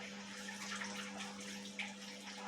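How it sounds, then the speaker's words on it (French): A kitchen tap runs softly as hands are washed after cracking eggs, a faint, continuous trickle with a low steady hum underneath. "Après avoir cassé les œufs, on se lave toujours les mains, Juju."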